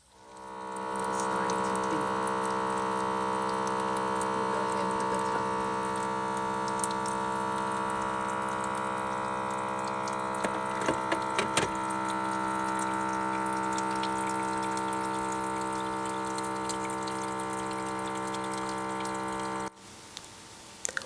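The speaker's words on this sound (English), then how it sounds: "it's gonna start adding the water into the tank from the jug below that I attached the tubing to" A LetPot LPH-Max smart hydroponic system's pump runs steadily, drawing water through tubing from a jug below into its tank. It gives a continuous low hum with faint water trickling for about twenty seconds, then cuts off abruptly.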